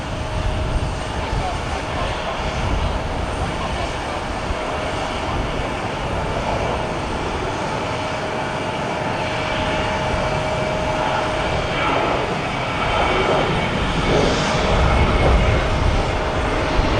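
An American Airlines jet airliner taxis at Cleveland Hopkins airport, its engines giving a loud, steady roar with a high whine, continuous throughout and swelling slightly near the end.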